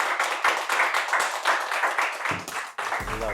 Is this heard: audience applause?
yes